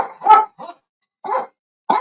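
A dog barking three or four times in short, close, loud bursts separated by brief pauses, with no talk.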